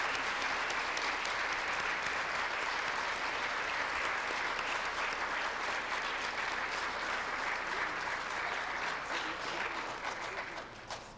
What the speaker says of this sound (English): I just thought we could just give a big round of applause just to share space with everyone